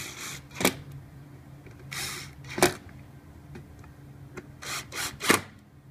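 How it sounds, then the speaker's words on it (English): Hand-tightened fasteners being driven home inside a burn box during an annual service, heard as several short rasping, scraping bursts spaced irregularly, close and moderately loud against a quiet background. "We're gonna go ahead and screw them in now."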